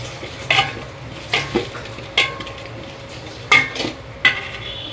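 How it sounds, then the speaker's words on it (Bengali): Radhuni chicken roast spice mix is stirred and fried in a pan, with about six rhythmic scraping strokes over a soft, steady sizzle. "ভালো করে নেড়ে চেড়ে মশলাটাকে ভেজে নিচ্ছি।"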